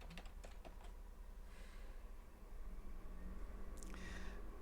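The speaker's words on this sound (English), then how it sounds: "So I'm going to type in here Postman." Quick bursts of keystrokes on a computer keyboard, close and quiet over a low steady hum, with a short pause before a final flurry of clicks.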